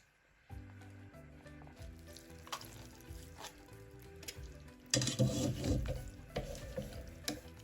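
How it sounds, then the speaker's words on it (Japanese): Beaten egg cooks in a pot that is slowly shaken, giving a soft sizzle with light clinks and scrapes of the pot, then a louder burst of bubbling and clatter partway through. "鍋をゆっくり揺らしながら卵に火を入れていくとふわっと仕上がります。"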